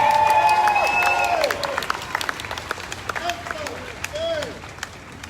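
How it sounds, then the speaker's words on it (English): A crowd at an outdoor justice rally applauding and cheering, loud at first and then thinning out into scattered claps, with a few voices calling out. "Let's give him a round of applause."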